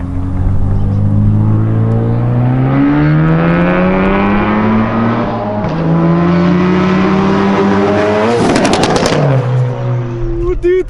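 Loud, continuous engine of a 400 WHP full bolt-on Ford Focus RS widebody, rising and falling through revs with a sharp blip and crackle near the end, heard up close with voices over it.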